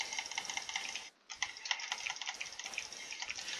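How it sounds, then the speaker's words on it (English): A computer mouse clicks rapidly and steadily during a Minecraft survival session, a dense close-up rattle of clicks with one brief pause, no voices. "I wonder if you guys can hear my mouse"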